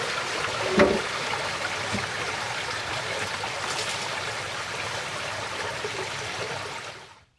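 Water flows through an acequia irrigation channel after a kilometre-long circuit, a steady, close rushing and trickling with a small splash early on, fading out at the end.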